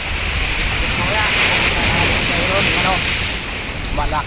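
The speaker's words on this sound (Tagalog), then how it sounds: "Malakas ang alon guys." Strong ocean waves crash and surge at a shoreline fishing spot, a loud, steady roar of surf with wind buffeting the microphone throughout.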